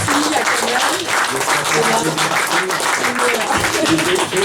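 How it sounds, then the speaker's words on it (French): An audience at a poetry café applauds the performer Kamel, with sustained, steady clapping throughout and a voice speaking over the ovation. "On l'applaudit encore très fort."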